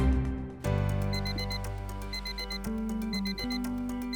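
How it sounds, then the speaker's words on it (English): An alarm clock rings in the morning with a steady electronic beeping pattern, bursts of repeated tones that start abruptly and sound close and loud against a low background hum. "begins his day with an alarm."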